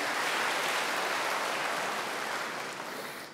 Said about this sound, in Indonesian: Tepuk tangan bagi nama Yesus.